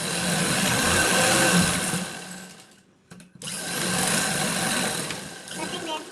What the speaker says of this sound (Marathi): अशा प्रकारे आता आपण याला पूर्ण ही अशी प्रेस मशीन मारून घेणार आहे.